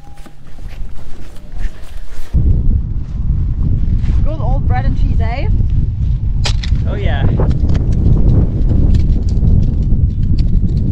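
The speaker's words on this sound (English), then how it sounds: "It's unbelievably windy." Strong wind buffets the microphone with a loud, rough roar that persists throughout, while people talk briefly beneath it.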